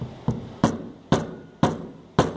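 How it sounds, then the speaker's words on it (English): A hammer taps a fragile plaster of Paris cast around a 3D printed part, five sharp knocks spaced about half a second apart, close and clear with no talking. "so let's give it a few taps."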